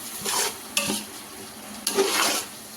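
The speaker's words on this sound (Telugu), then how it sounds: "ఇప్పుడు టమాటా వేసేసి మంచిగా మిక్స్ చేసేసుకొని టమాటా కూడా దీంతోనే కుక్ అయ్యేలా చూసుకోవాలి." Tomatoes are stirred into mutton keema pulao in a hot pot, with a steady frying sizzle and two or three louder scraping stirs of a spoon against the pan.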